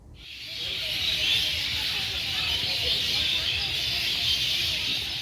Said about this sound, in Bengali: এখানে অসংখ্য পাখি আছে আপনাদেরকে একটু পাখির ডাকটা শোনাই